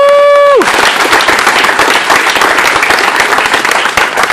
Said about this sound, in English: just giving the electeds a round of applause